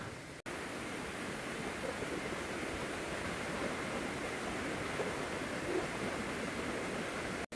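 The seventh tier of Krok E-Dok waterfall in Saraburi gives off a steady, dense rush of falling water, even and unbroken throughout with no voices.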